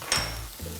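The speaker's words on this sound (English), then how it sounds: "stir it all around" A spoon stirs chili powder and Mexican oregano into a pot of real-cheese queso, giving one brief scrape and clink against the pot, close and fairly soft.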